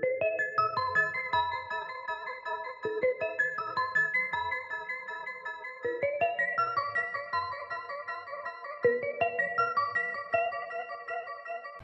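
Arpeggiated synth chords from the Lost Dreams preset in Analog Lab 4: bright, bell-like notes cascade in quick repeating patterns, shifting chords every few seconds, heard alone with no voice.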